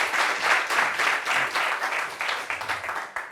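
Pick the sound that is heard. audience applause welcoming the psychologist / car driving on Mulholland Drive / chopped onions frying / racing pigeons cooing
audience applause welcoming the psychologist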